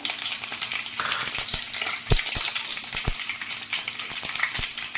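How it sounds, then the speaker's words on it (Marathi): Mustard seeds, cumin and curry leaves drop into hot oil for a soybean masala, sending up a loud, steady sizzle. Sharp pops and crackles keep breaking through, close by and with no talking. "आपण टाकू यामध्ये राई, जिरा आणि कढीपत्ता"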